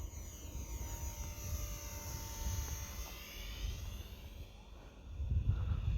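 Small Eachine T-28 RC model airplane, a 400mm reduced-weight build with a 1S brushed motor, flying overhead with a thin, steady motor whine that rises and falls as it passes, accompanied by outdoor background rumble.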